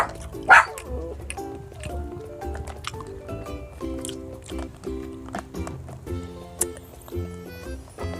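A pet dog in a home in Cebu, Philippines lets out one sharp, loud bark near the start, then gives a few quieter yips. Wet, squishy mouth sounds run underneath.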